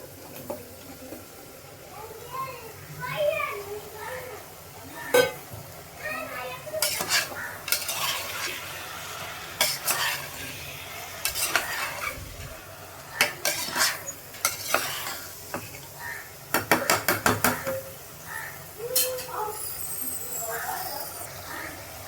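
Goat head meat for thalai kari being stir-fried in a pan after onions, with repeated scraping and clattering of a utensil against the pan over a soft sizzle, the strokes coming in irregular bursts up close.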